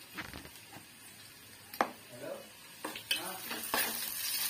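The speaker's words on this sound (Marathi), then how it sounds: "हे सगळं हलवून घ्यायचं," Tomato mixture with ginger and garlic stirred in a hot pan, soft sizzling broken by intermittent spoon scrapes and clinks against the metal, fairly quiet and close.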